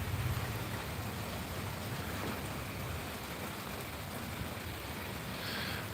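Steady rain falls outside at night, a continuous dense hiss with low rumbling, constant and fairly close, with no voices over it.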